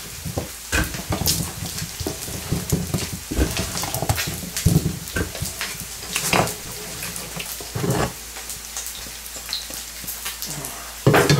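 Onions and potatoes fry in a pan with a steady, close crackling sizzle, broken by scraping stirs and occasional louder pops, and no talking over it.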